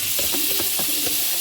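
Butter sizzles in a hot pan for Marry Me chicken while a spatula scrapes and stirs the dry browned bits, a steady hiss broken by several short scraping strokes.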